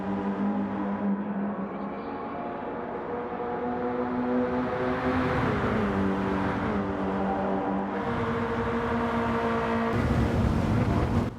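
Race car engines in the Gran Turismo 7 racing game roar steadily as the cars run close together, with the pitch rising and falling through gear changes and a loud surge near the end.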